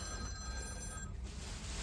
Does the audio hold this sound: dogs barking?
no